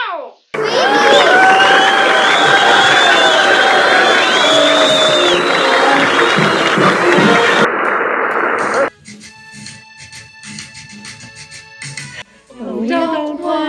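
A big crowd cheers and shouts at a wartime army recruitment rally, a loud, steady roar close by that lasts several seconds before cutting off, leaving fainter tonal, music-like sounds.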